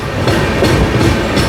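Jan Shatabdi Express rolling out of Ranibennur station, a loud, continuous rumble of wheels and carriages with faint rhythmic clatter, heard from on board.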